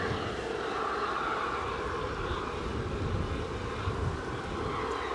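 Loganair airplane at Edinburgh airport gives a steady, continuous engine roar from some distance, broadband and unbroken throughout with no talking.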